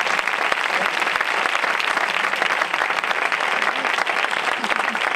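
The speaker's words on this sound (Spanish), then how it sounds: "todos juntos un aplauso para ellos" Steady, dense applause from a crowd at a sports recognition ceremony, continuous throughout with no pauses, filling the space at a loud, even level.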